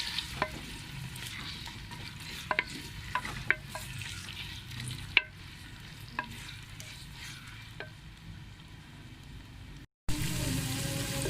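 Chopped onions sizzle gently in a pan while a spoon scrapes and clacks now and then as they're stirred, close and fairly quiet.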